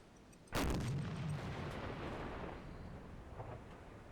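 A deck gun fires one round at a Japanese troop carrier in the Silent Hunter 4 video game: a single sharp, heavy blast followed by a long rumbling decay that trails off under steady background noise.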